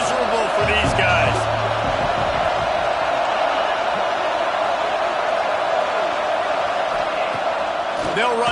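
A stadium crowd at a New Mexico State vs Washington college football game, a constant loud roar with a few brief shouts and thumps near the start, heard under a commentator's voice.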